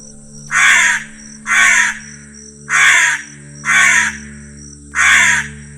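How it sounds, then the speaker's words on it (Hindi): A black crow caws five times in a slow, regular sequence, each harsh call about half a second long and loud, separated by short pauses over a faint steady hum. "और वो था एक काला दुखी कौवा।"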